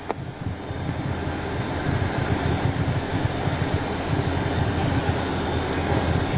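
A Cessna Citation II jet sits on a San Antonio runway with its left engine still running and the right one shut down. The engine gives a steady, loud, close roar that holds evenly throughout, with no talk.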